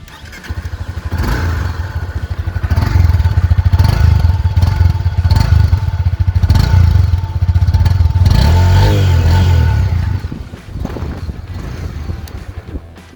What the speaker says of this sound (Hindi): It's I would say muted growl that this motorcycle has.